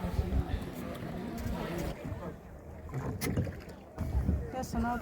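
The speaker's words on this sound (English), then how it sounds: "Kayaking has its good point. The bad part is doing your own rowing." A kayak paddled through the water of Ha Long Bay, Vietnam, near sea caves, with soft splashing paddle strokes at irregular intervals under people talking nearby.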